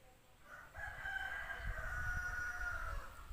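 A rooster crowing, one long drawn-out call held for a couple of seconds at moderate distance, faint over a low background rumble.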